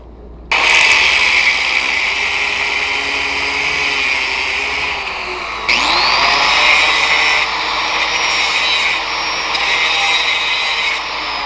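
Loud, continuous high-pitched grinding on a threaded bolt from a Murray lawn mower, a steady whine that shifts pitch as the tool bites near midway, running alone without talk.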